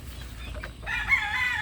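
A Reds, Greys or Bulik gamecock lets out a single loud, close crow that starts a little under a second in and holds steady to the end, following a brief rustle.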